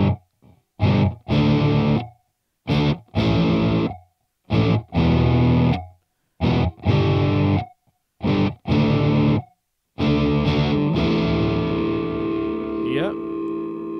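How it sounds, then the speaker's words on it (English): Guitar through the ring modulator effect of a Boss Katana MkII amp, giving harsh, distorted, metallic chopped chords in short bursts with silences between, then a longer sustained ringing tone that fades out. "Next thing you know, we got the ring mod."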